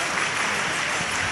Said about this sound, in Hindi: एक बार तालियां बजाकर